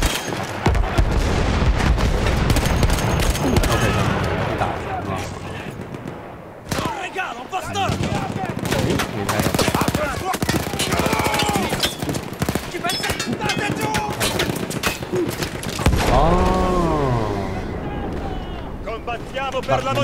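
Machine gun fire in Battlefield 1, rattling bursts mixed with heavy booms, runs throughout alongside near continuous talking and shouting.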